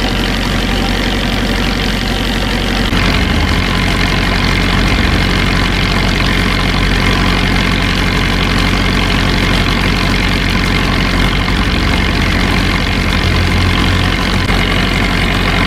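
A fishing trawler's diesel engine chugs loudly and steadily as the boat leaves a fishing port, the low knocking rumble close and continuous, growing slightly heavier after the first few seconds.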